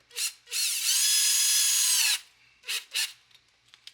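An electric power drill fitted with a hole saw cuts a hole. It runs in one long, loud, steady whine at close range, framed by a few short bursts of the drill spinning up, with no voices.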